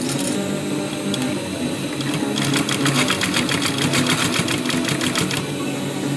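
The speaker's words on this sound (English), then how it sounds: "Now we want to sew downwards, aligning this side of the foot with the stitch we made here." A sewing machine stitches a cord onto a homemade surgical mask, running steadily and close with a rapid, even mechanical whir that grows denser partway through.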